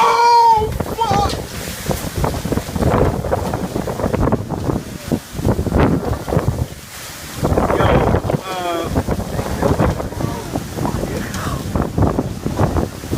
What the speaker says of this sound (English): Yo, we got a typhoon coming.